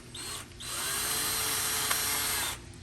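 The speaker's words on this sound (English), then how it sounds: "Now I can put the other screw on top of it, right there." Ryobi power drill driving a screw into a metal shelf unit during assembly, one sustained whirring run of about two seconds, close and loud, with brief handling noise before and after.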